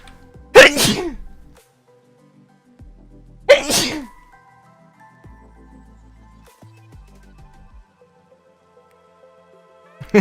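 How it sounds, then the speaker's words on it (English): Two loud, sharp sneezes burst out close by about three seconds apart, with quiet room tone and faint game sounds between them. "Gonna sneeze."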